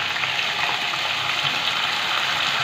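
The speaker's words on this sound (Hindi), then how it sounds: "थोड़ा सा हम से पानी शामिल करेंगे ताकि सही हो जाए।" Water poured into a pan of ghee and jaggery on the stove gives a steady, hissing, gushing wash that holds evenly throughout, close and moderately loud.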